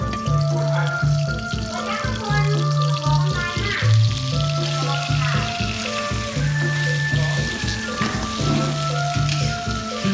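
Meat fries in oil with a loud, close, continuous sizzle and crackle that runs throughout, with other faint background sounds underneath.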